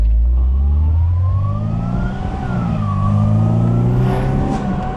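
A 1998 Mercedes-Benz SLK 230 engine revs on a night drive with the top down, a loud rising and falling drone that swells and eases across several seconds, with no talking.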